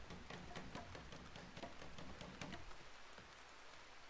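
Steady rain in a video game, a dense even patter of drops with scattered sharper ticks throughout, no voices.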